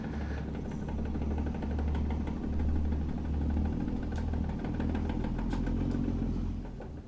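A Mack truck's 350-horsepower engine in American Truck Simulator, pulling two trailers with a twin-stick six-speed, rumbles steadily with a low throbbing drone that swells and eases slightly before fading at the end.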